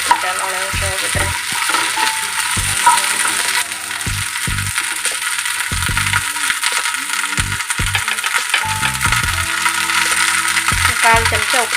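Okra (lady's finger) frying in a pan for a dal fry, stirred with a utensil that clinks and scrapes against the metal in irregular bursts over a steady sizzle, close and fairly loud, with no talking.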